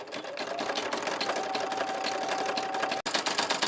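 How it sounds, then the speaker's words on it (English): A Brother PE 770 embroidery machine stitches whiskers into a design, its needle hammering in a fast steady rhythm close up, broken by one brief pause near the end. "the machine is going toward completing this embroidery design"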